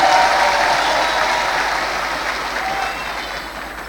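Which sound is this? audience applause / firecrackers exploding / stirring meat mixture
audience applause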